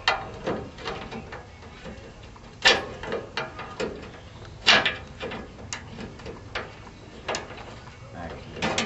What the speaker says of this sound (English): One of these 3/8 ratchets longer than the other.